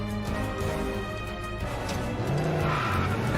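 A car pulls away in a TV drama scene, engine revving under a steady backdrop with a brief tire squeal, loud and continuous throughout.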